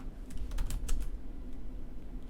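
Quick keystrokes on a computer keyboard sound in a short burst while a kubectl deployment command is typed, then trail off into faint, scattered taps.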